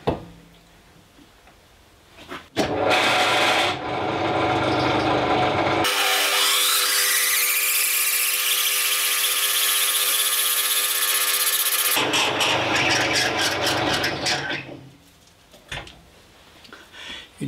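A lathe drilling with a large drill bit, up to 25 mm, grinds steadily with a loud, sustained cutting noise, starting and stopping with bursts of mechanical whirring before and after.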